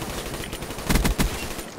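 Sniper rifle fire in the video game Fortnite, two or three sharp cracks close together midway through a short, busy stretch of game noise.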